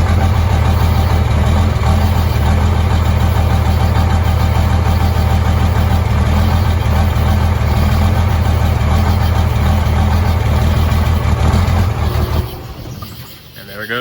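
A Cummins diesel truck engine with a failing VP44 injection pump idles loudly with a steady, low rumbling clatter, then cuts out near the end, leaving near quiet.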